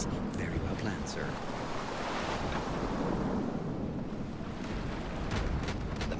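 Video game sea surf on a windy coast: a continuous wash of waves and wind, loud and close, with no break.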